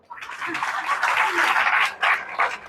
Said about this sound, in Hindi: ताली बजाओ भैया के लिए